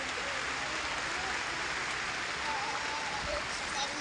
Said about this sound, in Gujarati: વરસાદ કેવો પડે જાગુભાઈ? બહુ પડે છે.